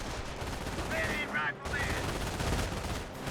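Machine-gun and rifle fire in a Company of Heroes 1 match between US and Wehrmacht forces: rapid, dense bursts of gunshots at moderate distance amid battlefield noise, with a commentator's voice faintly underneath.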